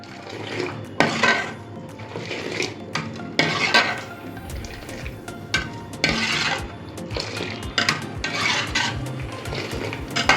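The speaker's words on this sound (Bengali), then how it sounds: "নেড়ে চেড়ে ঠান্ডা করে নেব।" A spoon or ladle stirs warm milk in a metal pot, giving repeated scraping and clinking strokes in an uneven rhythm, close and fairly loud, with no talking.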